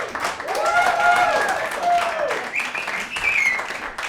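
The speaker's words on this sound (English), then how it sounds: "Are you applauding me because the connection is slow?" An audience applauds during a presentation, a steady wash of clapping that carries throughout while voices and a whistle-like tone sit on top.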